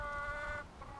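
Chickens cluck and crow inside a backyard coop, a close, steady run of overlapping fowl calls with a harmonic rooster-like tone for most of the second before easing off.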